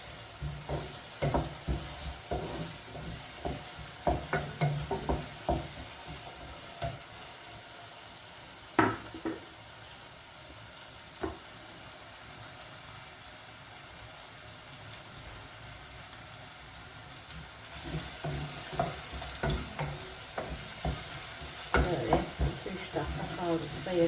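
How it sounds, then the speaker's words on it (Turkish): Carrots are stirred in a frying pan for a spinach dish, with a faint sizzle under repeated scraping and clattering utensil strokes that come in bursts with quieter gaps between. "Şimdi havuçlarını atabiliriz."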